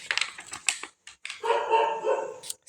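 A neighbour's pet dog barks in a few quick yips, then lets out a longer whining, howling bark, moderately close, with no talk.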